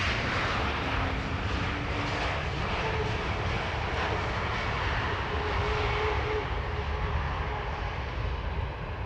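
A KLM Airbus A321neo airliner arrives at Amsterdam Schiphol, its engines giving a steady, fairly loud roar with a faint whine running through, continuous and without voices.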